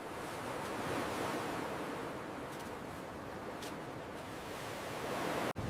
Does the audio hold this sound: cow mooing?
no